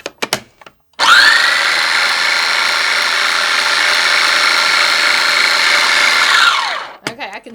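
A kitchen food processor whirs at a steady, loud pitch for about five and a half seconds, chopping pumpkin hummus ingredients with chili pepper and pumpkin spice, then spins down to a stop.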